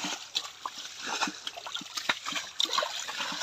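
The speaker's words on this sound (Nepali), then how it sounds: "यता माथि फ्याल्ने है यहाँको पानी" Water is thrown and splashed outdoors in irregular, close splats and sloshes, with a trickle between the bursts. Boys nearby are playing with it, and the splashing sounds moderately faint.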